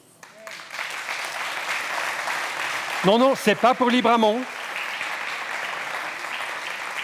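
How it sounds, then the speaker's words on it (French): During a Sunday worship service, the congregation applauds two newly elected members: sustained, even clapping from many people that carries on under a short spoken line partway through. "J'aimerais que vous applaudissiez."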